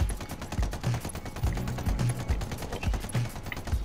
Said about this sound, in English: Oh my God, it has machine guns.